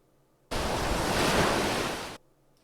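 An ocean-wave sound effect used as a PowerDirector transition: a single loud, broad wash of surf noise swells in, holds for under two seconds, then cuts off abruptly into near silence.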